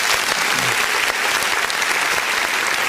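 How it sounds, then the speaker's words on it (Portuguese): A church congregation applauds loudly and steadily, dense clapping filling the whole moment. "Vamos aplaudir o nome do Senhor Jesus?"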